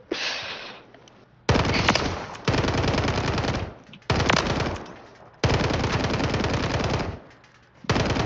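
Machine gun fire in the video game Warzone comes in four long, loud, rapid bursts separated by brief lulls, with a final burst starting at the end.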